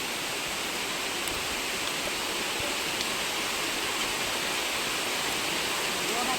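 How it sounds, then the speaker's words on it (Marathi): Rain pours in a dense, unbroken hiss over an outdoor meal beneath a mango tree in the Konkan countryside during rice planting, loud and steady throughout. "पाऊस आला"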